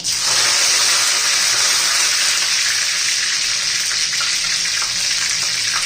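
Curry leaves dropped into hot oil with spluttering mustard seeds for the tadka of a rajma curry. A loud, steady, hissing sizzle holds throughout, with no speech.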